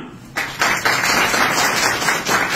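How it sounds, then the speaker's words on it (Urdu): An audience at a motivational talk in Faisalabad breaks into applause, a dense burst of many hands clapping that swells in a few surges and carries on to the end. "تالیاں"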